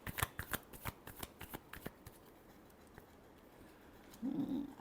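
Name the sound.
shuffling tarot cards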